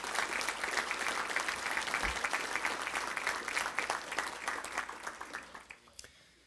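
A banquet hall crowd at a football touchdown club awards banquet claps in sustained applause that thins into scattered individual claps and fades out near the end.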